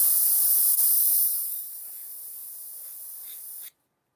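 An airbrush sprays paint through a stencil in a steady close hiss that drops to a softer, thinner spray partway through before cutting off abruptly.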